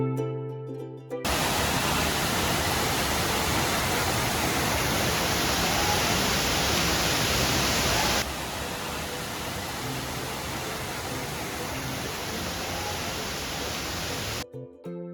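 Gavli Dev waterfall near Mumbai pours in a dense, loud broadband roar, steady and close for most of the stretch, starting and ending abruptly with a slight drop in intensity midway and no talk over it.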